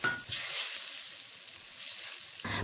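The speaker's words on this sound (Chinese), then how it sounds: "油热以后加入蒜末、姜末爆香" Minced garlic and ginger sizzling in hot oil in a wok, a steady bright crackling hiss that holds evenly for a couple of seconds before a short stir at the end.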